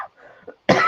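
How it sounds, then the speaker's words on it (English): A single short, sharp cough from a person, close and clear, preceded by faint quiet sounds. "Cough just there."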